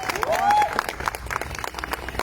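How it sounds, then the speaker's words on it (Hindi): Audience applause at a Vestige Marketing corporate event: brisk, scattered clapping from a crowd that rises and then carries on evenly through the clip, with voices mixed in and a brief whistle-like tone near the start. "तो मैं चाहूंगा इन तीनों के लिए एक बार जोरदार तालियां।"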